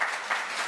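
Short burst of audience applause at a policy forum on dementia care, a brief even patter of clapping from the room.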